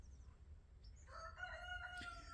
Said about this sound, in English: there's the rooster joining in on the show, right?